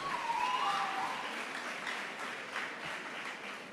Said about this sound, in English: a round of applause to all the winners that we've seen so far